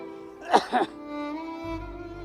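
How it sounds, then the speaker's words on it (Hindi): Two quick, sharp coughs from a man with a fever, close and fairly quiet, followed by a low lingering hum. "पिताजी, आपको तो बहुत खांसी हो रही है"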